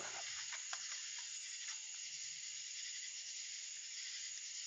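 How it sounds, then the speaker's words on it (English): Insects chirp outdoors in a rural church cemetery in Cottonwood, Alabama, forming a dense, constant high-pitched drone that sounds fairly distant and steady throughout, with no voices. "there sure are a lot of bugs out here"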